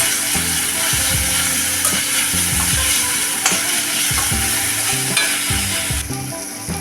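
Chopped tomato and onion sizzle and fry steadily in a hot pan while a utensil stirs and scrapes in repeated strokes, loud and close, with no talking.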